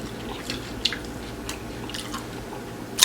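Close-up chewing of crunchy spicy Samyang tacos, with soft crackling bites and moist squishy mouth sounds, with a few sharper crunches standing out, no talking.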